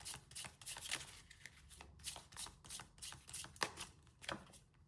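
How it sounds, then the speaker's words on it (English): A deck of tarot cards is shuffled by hand in a run of quick, papery riffling bursts that repeat irregularly, close and fairly soft, with no talking. "I'm just going to get some more cards about who you might be dealing with."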